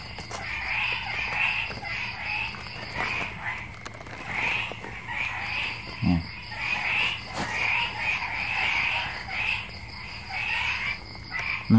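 Frogs croaking at night in the rainy season in the Mekong Delta countryside, a dense, continuous chorus of overlapping rhythmic calls, fairly near, with a brief thump partway through.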